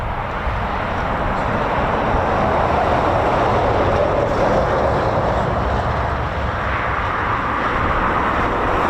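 A Eurofighter Typhoon FGR4 jet at RAF Coningsby gives off a steady, broad roar that stays loud and even from start to finish, with a faint swelling near the middle.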